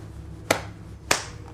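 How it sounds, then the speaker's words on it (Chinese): Two sharp hand claps about half a second apart, crisp and fairly close, over a low background hum with no talking. "你帮我看着他，一直击掌，不要停。"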